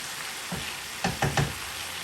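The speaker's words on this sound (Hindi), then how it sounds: "इनको मैं मीडियम फ्लेम पे रखूँगी, ताकि मेथी भी हमारी पक जाए और आलू भी गल जाए" Potatoes and fenugreek leaves frying in a pan on medium flame, a steady soft sizzle with a few light knocks of stirring.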